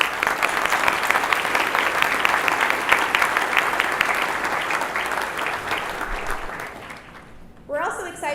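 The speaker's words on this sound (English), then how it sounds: "Let's give them all one more round of applause." Audience applause at the Greater Bloomington Chamber of Commerce annual awards, a steady, dense clapping that fills the room for about seven seconds and then trails off, followed by a brief voice.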